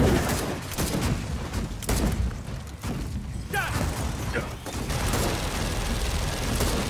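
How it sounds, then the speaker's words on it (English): Mounted machine gun turret firing in Gears of War 4, a steady rattling fusillade with mechanical clanks running through the whole stretch, mixed with dense game combat noise. "Come on, MG turret, do your work"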